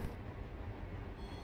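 A train passes in the Run8 train simulator game, a brief low rumble of rolling wheels heard faintly and steadily with no other sounds.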